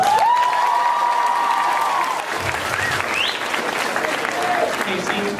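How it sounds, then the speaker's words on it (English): An audience at an a cappella concert applauds, a broad wash of clapping with some cheering, while a singer's sustained voice rings over the start and faint chatter surfaces later. "so everyone give Casey a big round of applause"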